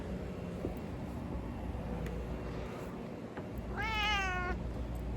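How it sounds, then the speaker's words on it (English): Pet cats make a single clear meow, close to the camera, in a quiet indoor room over a low background hum. "Yeah, they're good. They're good cats."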